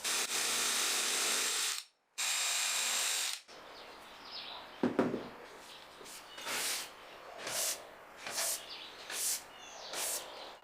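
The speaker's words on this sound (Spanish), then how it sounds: "para hacer todos estos agujeros no pude usar mi taladro de banco y tuve que usar un taladro de mano" A hand drill bores holes in wood for a workshop organizer: a loud continuous whir with a brief stop, then quieter, intermittent drilling bursts with some talking.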